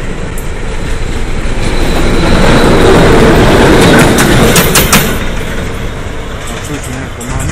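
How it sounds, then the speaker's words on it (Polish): A single railway locomotive running alone passes close by, its rumble swelling to a loud peak midway and then fading, with people talking over it. "To jest sama lokomotywa."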